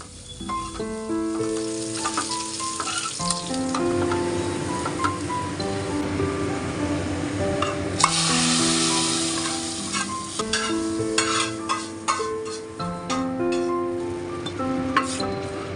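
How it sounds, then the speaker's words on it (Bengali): Chopped garlic and onion crackle in hot oil as a tempering for mashkalai lentil dal, loud bursting sizzle and spatter with stirring scrapes, a surge midway, music playing underneath. "দিয়ে দিচ্ছি রসুন কুচি দিয়ে দিচ্ছি পেঁয়াজ কুচি এখন ডালটাকে আমি খুব সুন্দর করে বাগার দিয়ে নেব"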